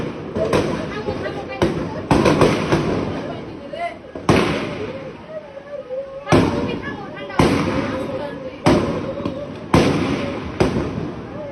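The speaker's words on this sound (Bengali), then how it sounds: "আর গুলি লাগছে" Repeated sharp gunshots, about ten in irregular succession, loud and close, with excited voices shouting between them during the 2024 quota reform protests in Bangladesh.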